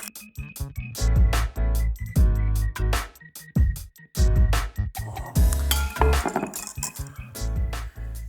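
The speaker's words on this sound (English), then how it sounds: "slowly add the cream and the milk, whisking the egg yolks so we don't cook the egg yolks." Repeated clinking and scraping of a whisk against a bowl as egg yolks are whisked while cream and milk are poured in, in irregular bursts with short pauses.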